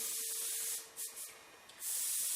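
An airbrush sprays opaque black paint onto diamond plate artwork, a close, steady hiss broken by a few brief pauses and short bursts before resuming.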